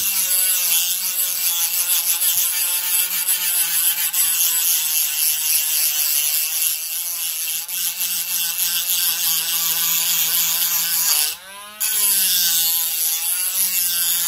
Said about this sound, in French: on voit le passage quand même de la meule assez facilement